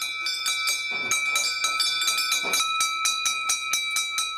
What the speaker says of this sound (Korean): 갑자기 빨래터를 울리는 종소리.